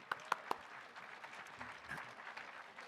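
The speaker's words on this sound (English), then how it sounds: "Let's give a joint round of applause to BCL for sponsoring our prizes." Scattered clapping from a convention audience thanking a prize sponsor: a few sharp, separate claps at first, then a soft, thin patter of applause at low level.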